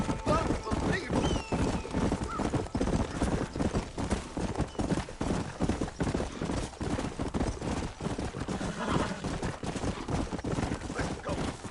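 Horse galloping in the Red Dead Redemption video game, rapid rhythmic hoofbeats pounding close and loud throughout, with occasional whinnies and a rider's voice urging it on.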